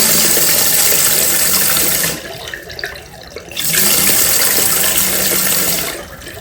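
Tap water rushing into a toilet tank beneath a glass, a loud steady hiss that cuts out briefly in the middle, then surges back before easing off.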